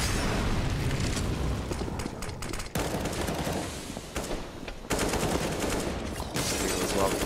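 Rapid automatic gunfire and explosions from a Counter-Strike: Global Offensive match on the Train map, dense overlapping bursts with sharp cutoffs, loud and continuous.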